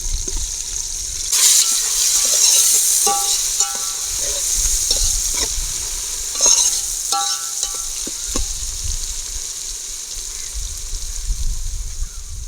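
Chopped coriander and green chilli drop into a frying pan for egg biryani, bringing a sharp burst of sizzling with scraping and clattering stirring, close and fairly loud, easing into a softer fry.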